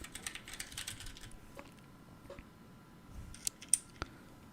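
Keycaps click and snap onto a Redox mechanical keyboard in quick irregular taps, faint and close, with a few sharper clacks near the end.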